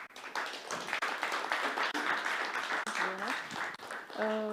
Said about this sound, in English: let's welcome Ruxandra Elene with a big round of applause